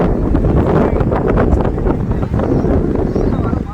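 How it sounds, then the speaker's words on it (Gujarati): Loud, blustery wind buffets the microphone in a constant low roar, with faint voices mixed underneath, at Madhupur beach near Dwarka. "પવનનો અવાજ આવતો હોય છે તમને"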